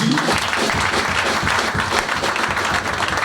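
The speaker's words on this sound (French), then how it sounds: "On peut acclamer le Seigneur Jésus" A church congregation at a first-anniversary service claps in dense, steady applause that fills the room, loud and close throughout.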